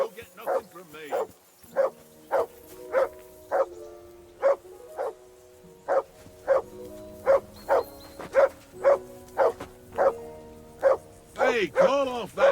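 A dog barks repeatedly in a steady rhythm, about one bark per half second, loud and close, in the medieval video game Kingdom Come: Deliverance II, with a voice briefly at the start and end.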